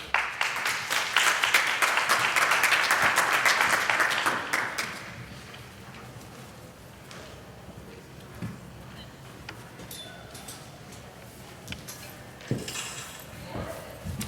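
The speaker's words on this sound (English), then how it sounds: "Let's give her another round of applause" An audience at a summit applauds Representative Bass, a dense burst of clapping lasting about four seconds before dropping to quiet room noise with faint clinks and shuffling.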